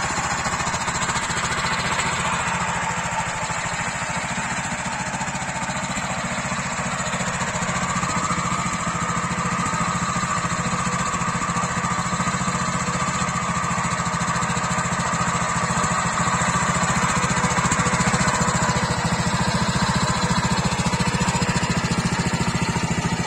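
A SuperMTZ-05 minitractor with a potato digger attached runs steadily, its engine producing a loud, continuous rattling drone with a slight rise in pitch midway and no pauses.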